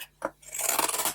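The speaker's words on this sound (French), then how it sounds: "Ah, et ça coupe bien. Parce que là, c'est du carton épais." A brief snip followed by a rough, scraping cut as scissors go through thick cardboard, close up and fairly quiet.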